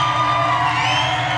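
A crowd at a gathering cheers and whoops in a continuous, loud wash of raised voices.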